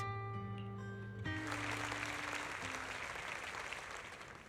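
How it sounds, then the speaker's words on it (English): Prolonged crowd applause in a video game follows a spoken speech, a dense wash of clapping rising suddenly over a sustained musical score and holding steady before easing slightly toward the end. "Zoe's speech is met with a wave of prolonged applause"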